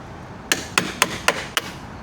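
Five sharp hammer taps, evenly spaced, drive a pin into the trim system of a Mercury Verado outboard, each strike a crisp close metallic knock with no talking.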